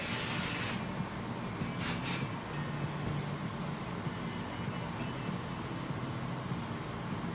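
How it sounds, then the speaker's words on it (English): Hairspray hisses from an aerosol can onto teased, back-combed hair in a top knot. A long, fairly quiet continuous spray comes with a few short bursts near the start. "you can add a little bit of hairspray too to add some texture."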